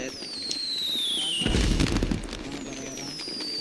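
Firecrackers burst at a birthday celebration, a dense crackling volley peaking for under a second midway, with high whistling tones trailing across and a faint background murmur.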